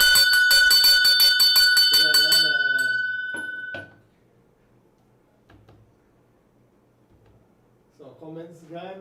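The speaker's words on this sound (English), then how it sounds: "But I can ring the bell." A bell rings in a rapid series of bright metallic strikes for about two seconds, then rings on and fades out, followed by near silence and a voice speaking briefly at the end.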